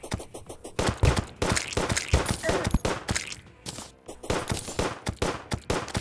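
Rapid bursts of gunfire in Terraria while fighting a goblin army, sharp repeated shots crackling in quick irregular volleys, loud and close, continuing throughout without speech.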